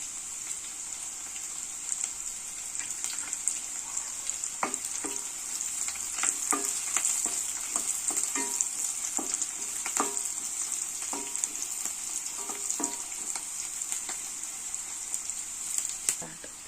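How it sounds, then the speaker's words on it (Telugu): Onion, green chilli and curry leaves frying in hot oil, a steady bright sizzle throughout with intermittent spoon clicks and scrapes against the pan, close and continuous. "ఉల్లిపాయ, పచ్చిమిరపకాయ, కరివేపాకు ఇలా ఫ్రై అయిన తర్వాత"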